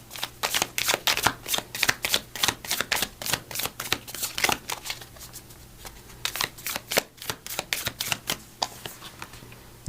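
A deck of oracle cards is shuffled close up in a quiet room: a long run of quick, crisp riffling flutters and snaps that thin out toward the end.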